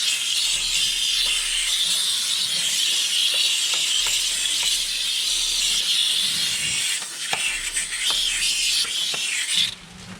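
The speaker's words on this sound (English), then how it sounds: "the steam cleaner here that I picked up at Harbor Freight to try to use a little steam power to get this cleaned" Harbor Freight steam cleaner blasting an engine bay around a 5.3L LC9 V8, a loud, steady close-up hiss of pressurized steam that runs almost unbroken before cutting off near the end.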